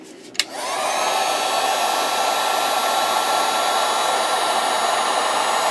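A heat gun starts with a sharp click and settles into a steady, loud blowing roar as it shrinks heat-shrink tubing onto a high-voltage capacitor discharge probe, running continuously with no talk.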